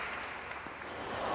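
Crowd applause from the audience in a PSVR2 tennis video game, a short continuous patter of clapping at moderate level, swelling slightly toward the end.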